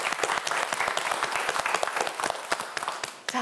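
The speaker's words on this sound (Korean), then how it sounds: "역시 박수 한번 보내주세요." A studio audience on a TV quiz show applauds with dense, steady clapping that carries on loudly throughout the brief moment.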